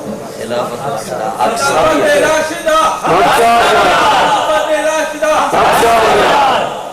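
A large crowd at a religious gathering shouts a slogan in unison in reply to a speaker, a loud, sustained massed chant that swells in waves across the whole stretch.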